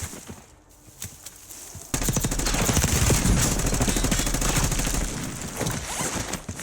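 Rapid automatic gunfire in Call of Duty Warzone (Black Ops 6), loud, close bursts of machine-gun fire starting abruptly and rattling on for several seconds amid other battle noise.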